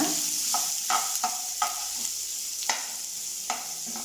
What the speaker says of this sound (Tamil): அப்போ இதை சேர்த்து நல்லா பொன்னீரமாக வதக்கிக்கோங்க